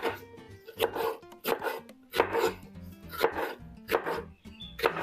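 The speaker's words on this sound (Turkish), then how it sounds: "Kapya biberlerimizi de bu orantıda doğruyorum" A knife chops red kapia peppers on a cutting board in a home kitchen, with crisp, evenly spaced cuts falling roughly twice a second, close and clear with no talking.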